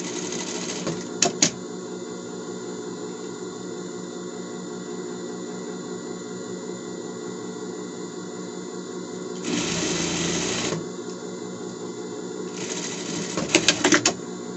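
A sewing machine runs seam over seam along a sleeve toward its hem on a boy's Monsters, Inc. costume, a steady close whir broken by two louder, faster bursts near the end.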